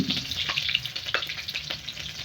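Onion frying in a pan with garlic, a close, bright crackling sizzle with scattered pops and stirring scrapes, fairly soft and steady.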